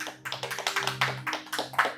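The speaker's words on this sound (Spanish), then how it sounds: "Le damos un aplauso a nuestro Señor." A church congregation claps in worship, a quick run of close, sharp handclaps over a steady low hum, lasting about two seconds.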